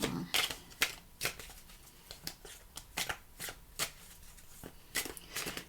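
Cards are riffled and shuffled in quick, crisp bursts, close up, with short pauses between them and no talking.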